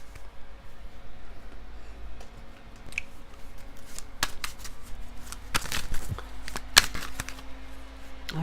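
Tarot cards are shuffled by hand, giving sparse soft riffles and crisp snaps close by against a quiet room background, with no talking.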